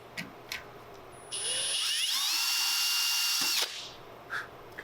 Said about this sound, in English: So now we're going to take the spotted one and drill all the way through.